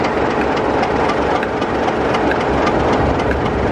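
Class 37 diesel locomotive engine roaring steadily from just ahead of old British Rail Mark IID coaches, a loud, continuous low rumble with rail clatter pouring in through an open coach window, no talk.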